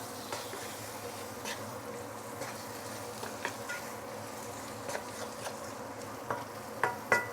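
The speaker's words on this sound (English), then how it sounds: "So this is a induction cooker." An induction cooker hums steadily under a wok of curry ribs, a constant buzzing drone broken by occasional light clicks and taps from stirring, with no one talking.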